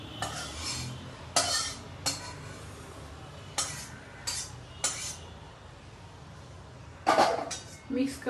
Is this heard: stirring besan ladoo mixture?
yes